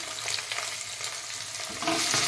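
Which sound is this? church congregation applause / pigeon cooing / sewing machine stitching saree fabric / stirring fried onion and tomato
stirring fried onion and tomato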